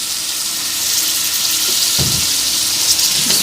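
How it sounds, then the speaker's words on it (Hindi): Raw potatoes dropped into a pot of ghee-fried masala for aloo gosht, giving a soft thud and a brief burst of sizzling over steady frying hiss, with a second smaller sizzle moments later. "और अब मैं इसमें आलू डाल लेती हूँ।"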